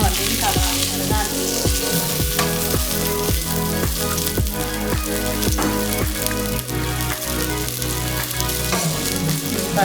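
Turmeric and chili being mixed into a hot frying pan for a king coconut bite dish: loud continuous sizzling and crackle, with a rhythmic series of spatula scrapes and knocks against the pan.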